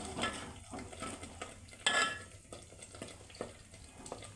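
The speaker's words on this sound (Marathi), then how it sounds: "आता यामध्ये आपण टोमॅटोची पेस्ट ॲड करून घेऊया। आणि आता हे छान असे परतून घेऊ" Tomato paste is stirred and sautéed in oil in a pan for chhole masala, with a low sizzle under repeated scraping strokes of a spoon against metal, close and moderately quiet.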